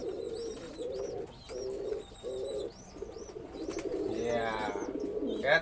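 A male pigeon coos in repeated throaty phrases during his courtship display, close and clear, with short pauses between bursts and a brief flutter near the end.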